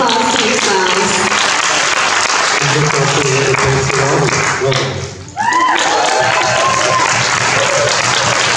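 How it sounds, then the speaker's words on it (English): Sustained applause from a large audience at a climate panel event, with voices and cheers mixed in; the clapping dips briefly, then resumes just as strongly. "Please give a round of applause to yourselves."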